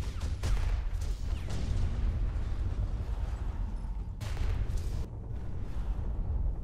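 Flak shots from a mech in a video game: a string of heavy booming blasts with deep low-end rumble, several sharp reports spaced irregularly over continuous mechanical background noise.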